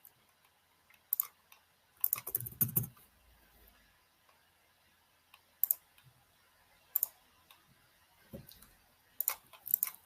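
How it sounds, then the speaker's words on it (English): Computer keyboard typing a search keyword, with sparse, irregular clicks and short clustered keystroke bursts separated by quiet gaps, close to the microphone with no voices. "Let's type it from here."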